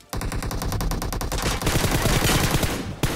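BGMI gunfire, rapid continuous automatic bursts with a fast steady rhythm that grow denser and louder midway, ending with a single sharp shot, no talk.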